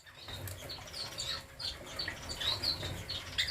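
Lovebirds in a breeding box flutter and chirp, quick high twittering calls and soft wing rustles, close and continuous through the short stretch.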